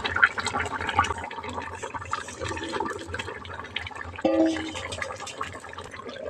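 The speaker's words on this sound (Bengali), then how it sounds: "ভেজে রাখা মাছগুলো এবার দিয়ে দিচ্ছি।" Fried rohu fish pieces go into a simmering cauliflower and potato curry, with a steady bubbling, sizzling wash and a soft splash partway through; close and moderate, with no talk.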